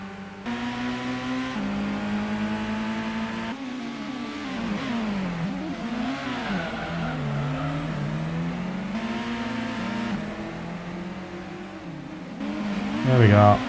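Race car engine in the Gran Turismo video game on PlayStation 1, revving steadily through shifts up and down with a tire squeal near the end, while someone talks over it.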